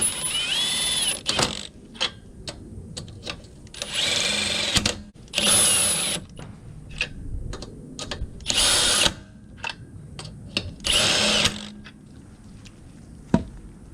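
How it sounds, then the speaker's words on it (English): Repeated bursts of a pneumatic impact gun whirring and rattling as it runs down titanium lug nuts on a Ford Mustang GT350, close by, with short pauses and clanks between runs. "Once you hear the gun ratchet that first time"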